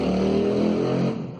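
A motorcycle engine drones loudly and steadily with a sustained tonal whine, then tapers off in the final moment.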